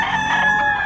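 A white-legged bullstag gamecock crows loudly and close by. A single sustained, harmonic crow fills the short moment on its own.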